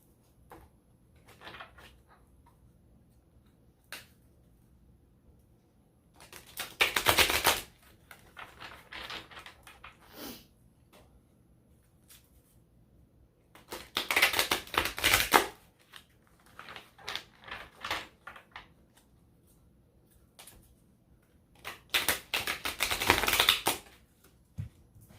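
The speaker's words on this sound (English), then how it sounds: "now I'm going to pull cards from the Power Tarot cards." Tarot cards are shuffled in three separate bursts, each a dense riffling flutter lasting a second or two, with quieter card slides and taps in the gaps and no talk over them.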